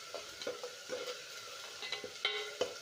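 Tomatoes fry in a pan for a white chickpea curry, with a soft close sizzle broken by quick scraping stirs at an irregular pace.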